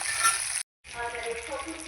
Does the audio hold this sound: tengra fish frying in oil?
yes